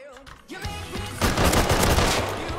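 Bursts of automatic gunfire in the survival game Rust, fired at a player base, with a quieter shot early on and then a dense, loud volley of rapid rounds for the rest.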